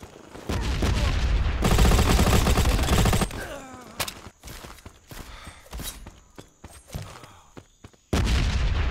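Gunfire and a grenade explosion in the mobile shooter Modern Ops: heavy automatic bursts and a loud blast, then scattered single shots and footsteps before another loud burst of fire.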